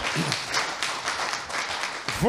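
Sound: audience applause at election debate

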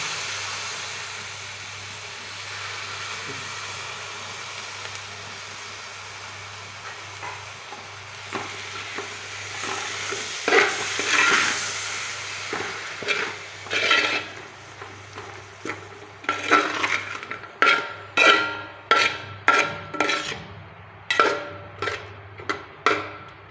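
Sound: stirring yogurt into vegetable biryani in a frying pan

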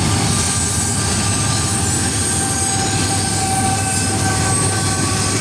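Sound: CSX eastbound freight train with helper locomotive passing

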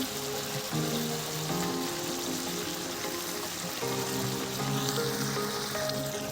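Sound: water added to sizzling chicken and potato curry

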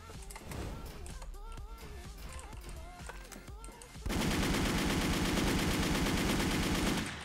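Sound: gunfire in a video game

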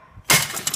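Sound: glass bottle being smashed

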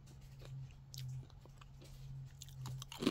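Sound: chewing crunchy Sonoma Creamery pepperoni pizza crisps

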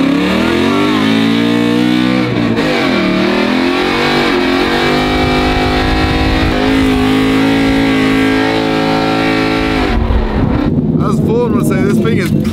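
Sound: drift car engine revving during a drift spin

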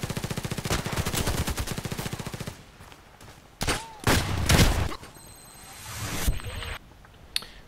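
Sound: shotgun gunfire in a sniper video game

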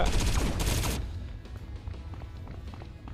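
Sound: gunfire in video game T3 Arena

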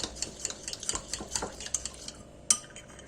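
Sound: stirring olive oil salad dressing with black pepper

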